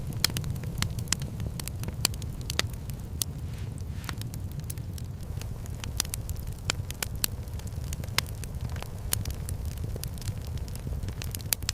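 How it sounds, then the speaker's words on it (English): A campfire burns in an extremely cold outdoor setting, giving a steady low rumble scattered with sharp, irregular crackles and pops throughout, moderately quiet and without voices. "The fire crackles its ancient lullaby."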